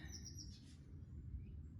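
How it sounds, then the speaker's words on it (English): Birds chirp outdoors in short, faint, high calls that cluster near the start, over a steady low rumble of wind or background noise. "The birds are going nuts for it."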